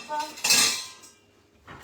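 A small saucepan and metal utensils are handled in a home kitchen while a cook prepares a Ferrero Yule log with a mandarin insert. Bright clanks and rattles come in a couple of close bursts, then a quieter pause before another clink.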